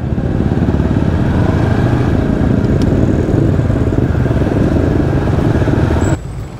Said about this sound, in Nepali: यहाँ चाहिँ बाइकको मेला लागेको छ भनौँ अहिले।